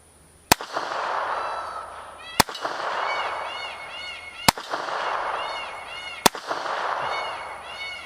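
Four sharp, loud pistol shots from a Lorcin .25 ACP at the range, spaced about two seconds apart, each a crisp crack with a short ringing decay.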